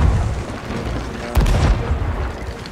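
Cannon fire in a galleon sea battle video game: a deep boom lands midway through a dense, rumbling din of game noise, loud and close.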